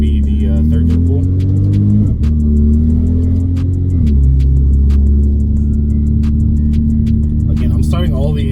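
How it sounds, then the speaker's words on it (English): Car engine pulling hard through third gear from about 1500 RPM while running on E85 fuel, a loud steady drone that climbs in pitch with brief dips at shift-like breaks, under a spoken voice. "All right, this is gonna be the third gear pull."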